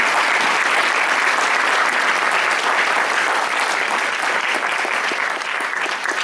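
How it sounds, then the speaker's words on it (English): A large conference audience applauds loudly and steadily for Tim, a program helper standing at the back, a dense sustained clatter of many hands throughout. "do a huge round of applause for Tim."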